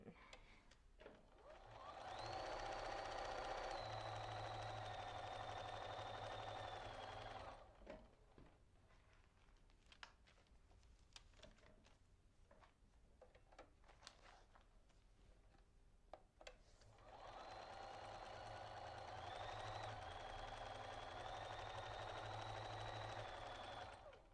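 A sewing machine stitches a seam on a quilt, two steady humming runs of several seconds each separated by quieter handling and clicks, fairly faint and close.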